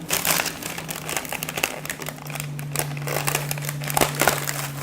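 Scissors snip through thick, crispy roasted laver sheets from Wando, giving a steady run of dry crinkling and crackling cuts, close and fairly quiet, with no talking.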